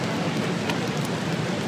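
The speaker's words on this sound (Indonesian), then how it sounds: "Ini sambil hujan teman-teman." Steady rain pours down around a parked new Daihatsu Ayla car, a dense, even hiss of drops on surfaces that holds constant throughout, close and moderately loud, with no speech.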